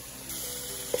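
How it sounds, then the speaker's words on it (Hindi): Masala frying in a pan over medium-high heat as yogurt goes in and is stirred quickly for a Pakistani mutton pulao. A faint, steady sizzle swells briefly, and a short scraping knock comes near the end. "अब जो है वो मीडियम से हाई हीट ये दही उसमें जो है जल्दी जल्दी मिक्स करें।"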